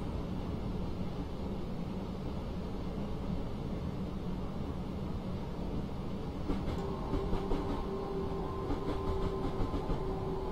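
A DB Class 442 electric multiple unit runs through the Munich–Augsburg route in Train Simulator 2016, a steady rail rumble and hiss throughout with faint clicking and a brief tonal whine entering midway.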